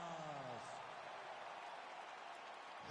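An arena crowd cheers and applauds as UFC fighter Rose Namajunas is introduced in the octagon, a continuous loud roar with a ring announcer's voice trailing off at the start and commentary resuming at the end.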